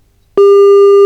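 Telephone busy signal heard when placing a call, a loud, steady electronic tone that begins suddenly after a short silence and holds unbroken to the end.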